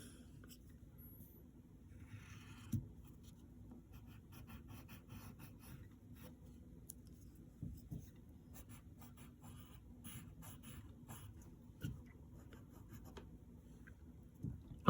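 A pencil scratches across paper in short, faint strokes while drawing Ultron, with soft scattered taps between the lines in a quiet room.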